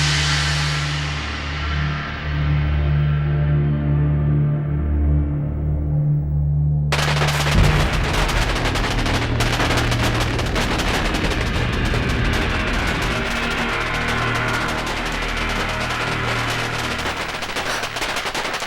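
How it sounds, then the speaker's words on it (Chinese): A rapid barrage of celebratory fireworks, heard as dense crackling bursts, follows a sustained tonal hum that cuts off abruptly. The loud popping reports continue in quick succession without pause and without any talk. "这是在放庆贺烟花呢"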